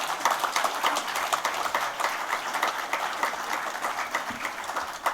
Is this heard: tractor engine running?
no